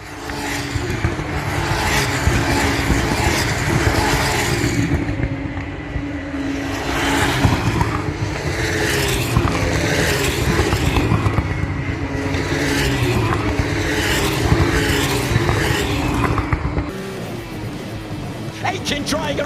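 Formula 2 race cars scream past on track, loud high-revving engine roars surging and fading in waves as cars pass close by, with commentary talk running underneath.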